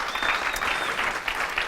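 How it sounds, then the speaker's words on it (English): An audience at a live business Q&A event claps steadily for a questioner, a full, even burst of many hands throughout. "Give him a round of applause."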